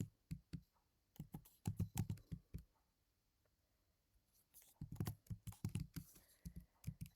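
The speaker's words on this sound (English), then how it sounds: "I'm just typing all of this data in." Bursts of quick, light key presses on a TI-84 graphing calculator tapping in clusters, with a pause of near silence in the middle before another run of rapid tapping.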